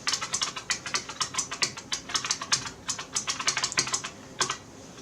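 Fast, loud typing on a clicky buckling-spring mechanical keyboard, sharp crisp keystrokes in quick irregular bursts, close up with no talking.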